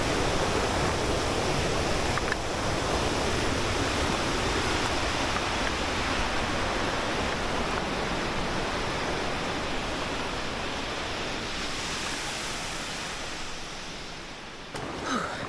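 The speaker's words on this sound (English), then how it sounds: "Mighty freaking waterfall." Waterfall on the Ribbon Creek Trail pouring in a steady, dense broadband roar, loud and unbroken from start to finish, with no voices over it.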